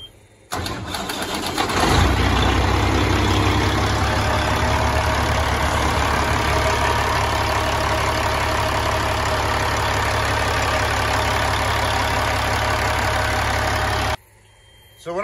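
A Caterpillar 3406E diesel truck engine cranks briefly, catches and settles into a loud, steady low idle close by, running for over ten seconds before cutting off abruptly near the end.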